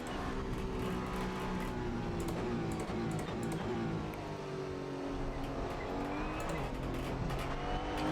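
A Toyota GR01 hypercar laps Le Mans in the racing game Assetto Corsa, its engine droning continuously as the pitch rises and falls through gear changes, with faint tire squeal along the way.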